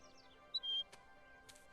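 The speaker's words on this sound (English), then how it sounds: "Ganymede is the name of the bird. That is Bastion's friend." Ganymede, the small bird companion in the video game Overwatch, lets out a few brief high chirps and one short sustained whistle, faint and isolated against a quiet background.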